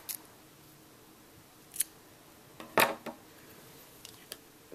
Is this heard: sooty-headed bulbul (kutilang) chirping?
no